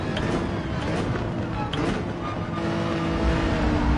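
Race cars lapping Watkins Glen in Gran Turismo 7, a steady loud engine roar with revving and shifting as the pack runs close together.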